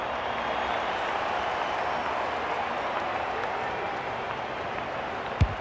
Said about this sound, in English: there's something for their fans to cheer